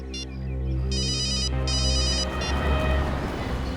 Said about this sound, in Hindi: मैं जरा दया को फोन करता हूँ।